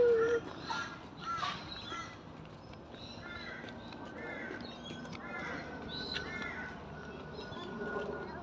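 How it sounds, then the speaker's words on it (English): Birds chirp and call repeatedly at moderate distance over a steady outdoor hiss in an Australian botanical garden, the short calls scattered throughout with no talking. "Listen to the birds."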